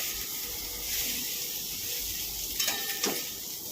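Chunguri, a snack being fried in a pan, sizzles steadily with a close, continuous crackle and a couple of sharper pops near the end.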